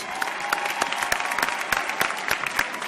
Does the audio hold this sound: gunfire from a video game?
no